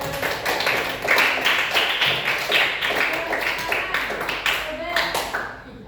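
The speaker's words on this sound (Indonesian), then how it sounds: "kita kasih tepuk tangan untuk kelompok 1" A class of students claps for a group, a lively burst of many close hand claps with a rhythmic patter, mixed with a few voices, fading at the end.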